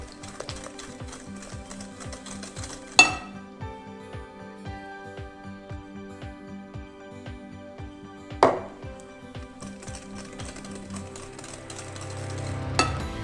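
Cake batter for a chestnut cake beaten by hand, eggs added one at a time, giving a steady fast rhythm of whisk or spoon strokes against a bowl with a couple of sharper knocks.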